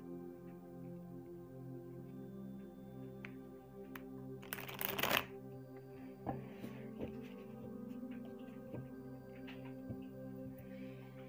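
Rider-Waite tarot cards are shuffled in a quiet room, with one short burst of riffling in the middle and soft scattered card slides and taps before and after.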